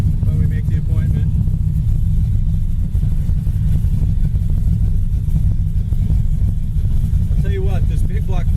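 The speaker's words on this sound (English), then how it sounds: "this big block 496, we're just firing it up cold." A cold-started big block 496 in a 1970 Chevy Chevelle SS runs with a loud, steady low rumble close by, continuous throughout with brief revs near the end, while people talk over it.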